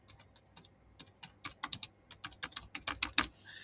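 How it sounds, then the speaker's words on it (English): Quick bursts of keystrokes on a computer keyboard, close and crisp, with brief pauses between runs and a sharper clack near the end, no talking. "I'm just doing it through my keyboard and mouse"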